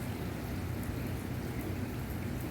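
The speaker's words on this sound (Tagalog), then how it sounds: "So it is raining." Steady rain falls in Alkhobar, a dense even hiss of drops on surfaces, moderately faint and unbroken, with no voices.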